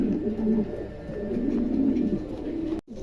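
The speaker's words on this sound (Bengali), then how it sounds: "চমৎকার এক জোড়া কবুতর" Pair of Bukhara pigeons cooing close by, with low, throaty cooing repeating steadily for about three seconds, then a sudden brief dropout near the end.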